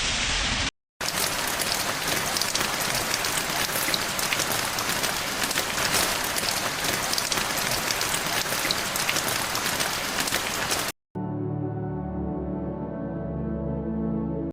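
Steady, dense rain pours during a storm in San Francisco in the Bay Area, an even hiss lasting about ten seconds, followed by a quieter tonal passage.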